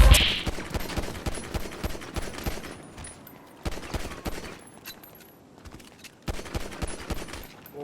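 Bursts of rapid game gunfire, loud and close, firing in several volleys separated by brief lulls, with no talking.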